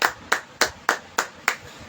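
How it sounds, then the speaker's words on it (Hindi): A congregation at a church prayer service claps hands in six sharp, evenly spaced beats, loud and close with no voices. "ताली बजाएंगे सब"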